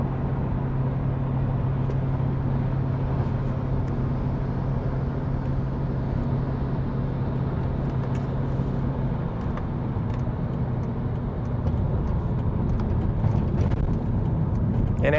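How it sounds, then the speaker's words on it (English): Steady interior road noise and a low engine drone inside a 2005 BMW ZHP while driving, with faint intermittent rattles and ticks over the constant hum. "let you guys just listen to the rattles and the rolls for this next half mile"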